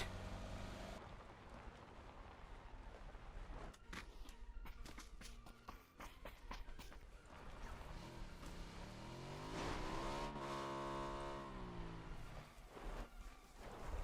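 A car driven in the video game PUBG, a continuous engine drone that rises and falls with revving and shifting, heard alone at moderate level.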